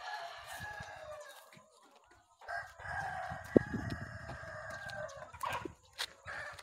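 Chickens and roosters in a large two-level rearing coop for native village chickens, with repeated loud crowing over a steady bed of clucking and flock chatter, some calls close and others further off.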